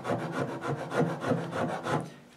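A wood rasp shapes a scrap-wood guitar neck in steady back-and-forth strokes, about ten coarse scraping passes in a regular rhythm, close and moderately loud with no talking.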